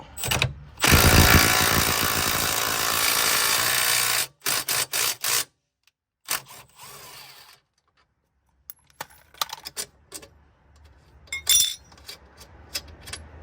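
A ratchet wrench drives a 14mm bolt into the aluminum belly pan of a BMW E90 335d: a loud burst of rapid clicking, then short stops and scattered clanks of tool and metal, close by.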